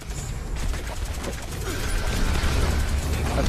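Gunfire in Fallout 76, a steady burst of rapid shots with mechanical clatter building in loudness over a few seconds, with no clear talk.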